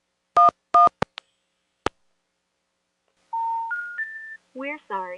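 Touch-tone dialing on a landline for a test call to 111 through the Palmerton Telephone Company: quick paired tone bursts, a short silence, then a rising three-note intercept tone followed by the start of a recorded announcement voice.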